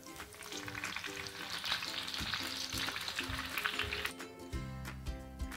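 Garlic shev frying in hot oil while being flipped, a steady close crackling sizzle with light scraping and a few soft knocks toward the end.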